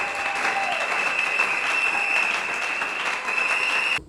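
A church congregation applauding in worship to acclaim the Holy Spirit, producing dense, continuous clapping that fills the room steadily for several seconds before stopping abruptly.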